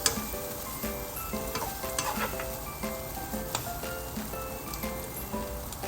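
An egg fries in a pan with a steady, crackling sizzle that runs throughout, with occasional louder pops and spits, close up and with no talking.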